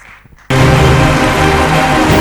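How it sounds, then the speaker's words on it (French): Loud applause from a church congregation bursts in suddenly and holds as a dense, steady roar of clapping and cheering after a brief quiet moment. "Acclame très fort."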